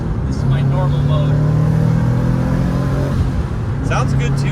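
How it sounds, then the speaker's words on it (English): Subaru STI on a Stage 2+ flex-fuel tune, close-up exhaust drone rising as the car accelerates, a steady loud engine tone inside the cabin with talk over it. "Sounds good too with the exhaust like that."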